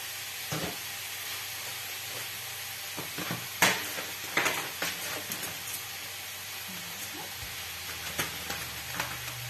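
Salt cod brandade cooks gently in a pan, giving a low, steady sizzle with occasional soft stirring clicks and scrapes, heard close up and fairly quiet with no voices.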